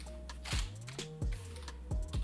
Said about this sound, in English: Command Z on the keyboard to undo.